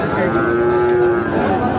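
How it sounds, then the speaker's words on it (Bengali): A Sahiwal bull calf lows in a long, drawn-out moo at a busy village cattle market, heard close over background crowd chatter. "শাহিওয়াল জাতের ষাঁড় বাছুর দেখছে"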